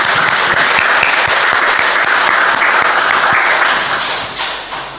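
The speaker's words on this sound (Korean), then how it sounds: "우리 미리 축하하면서 박수하시겠습니다." A church congregation gives loud, dense applause for an engaged couple standing during a worship service; the clapping holds steady, then tapers off near the end.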